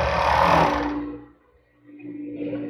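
A sewing machine stitches bra strap elastic in a loud whirring run that slows and stops, then a quieter mechanical hum resumes.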